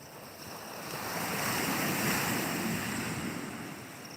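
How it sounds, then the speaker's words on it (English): Ocean waves break steadily on a beach in Ghana, a broad continuous wash of surf that swells louder in the middle, with some wind noise and no talking. "I don't know if you all can hear the sound of the waves."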